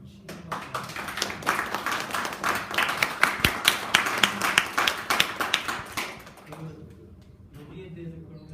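Applause from an audience after a candidate's remarks at a Korean student council Q&A forum: dense, steady clapping for about six seconds that then fades, with voices talking over it.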